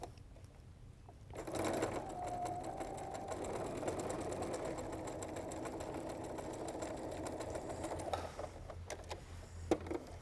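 A sewing machine stitches a quarter-inch seam in a quilt, its motor whirring steadily and close by for about six seconds, starting and stopping cleanly, with a few faint clicks around it.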